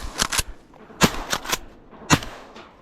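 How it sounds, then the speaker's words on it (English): Shotguns fire while duck hunting on flooded corn state land in Michigan, giving a quick volley of about seven sharp, fairly close blasts spaced irregularly across a few seconds. "Shooting."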